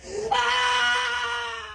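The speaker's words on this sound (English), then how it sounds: "She started screaming loudly, showing extreme anger." A woman in a Walmart store lets out one loud, sustained scream that rises sharply and then holds at a piercing pitch before slowly fading.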